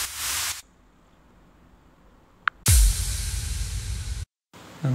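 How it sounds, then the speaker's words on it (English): White noise effect triggered in a DJ app, bursts of bright hissing static switched on and off abruptly, a short burst then a longer one after a near-silent gap, with no talk. "I will probably use the first one because that's a white noise effect"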